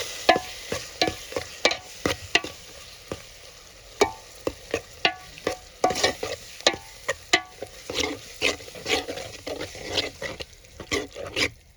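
Chopped eggplant olo being stirred in a pan, a soft frying sizzle under a long series of distinct, rhythmic scraping and clacking stirs close up.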